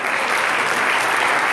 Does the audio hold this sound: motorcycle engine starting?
no